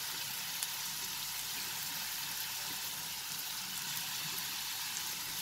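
Dried red chilies, curry leaves and onion sauté together in a pan for curry leaf chicken, giving a soft, steady sizzling hiss throughout with no voices.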